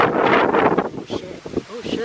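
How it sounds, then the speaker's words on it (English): A strong gust of wind from Hurricane Dorian roars into the microphone in a loud, broad rush that fades after about a second, followed by buffeting and a voice speaking over it. "That huge gust of wind."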